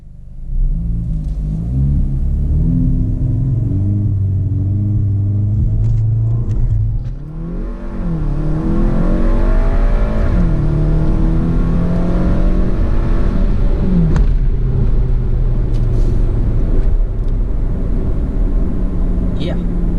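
A VW Golf Sportwagen with a Unitronic Stage 2 engine flash accelerating hard on a test drive, a loud steady rumbling drone with rising engine tones inside the cabin.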